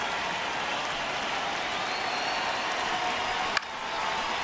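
Baseball stadium crowd in MLB The Show 26 with Seattle at home, cheering and clapping as a steady, broad roar that lasts the whole time, broken by one brief sharp click near the end.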